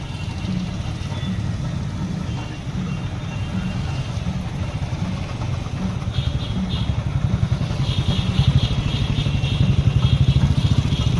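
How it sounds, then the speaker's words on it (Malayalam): Motorcycles in a bike rally procession through Mathil town ahead of Onam celebrations, a steady, loud rumble of several engines that swells toward the end. "മാത്തിൽ ടൗണിൽ വിളംബര ഘോഷയാത്രയായി ബൈക്ക് റാലി സംഘടിപ്പിച്ചു"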